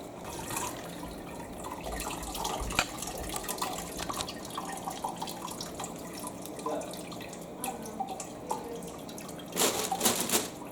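Turkey broth pouring out of a pot during straining, a continuous close liquid splashing and trickling with scattered drips and a louder gush near the end.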